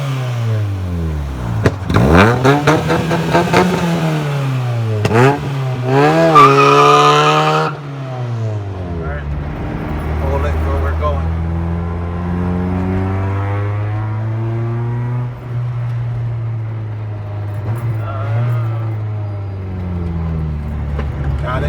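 A Mazda Miata with a manual stick shift revs and accelerates in repeated rising engine sweeps, loud and close, then drops to a lower, steadier drone of cruising engine tone with slight pitch swings.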